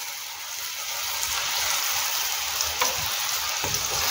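Eggplant slices fry in a little oil with a continuous bright sizzle, close and moderately loud, broken by a few soft clicks as the pieces are turned.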